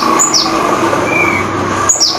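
A pet bird being bathed gives a few short, high chirps near the start and end. A steady broadband wash runs beneath them, probably running water.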